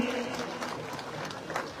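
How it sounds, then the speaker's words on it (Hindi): Crowd applause for a speaker at a political rally in Karawal Nagar, East Delhi, a dense wash of clapping at moderate distance over continuous crowd noise. "जोरदार तालियां उनके लिए भी"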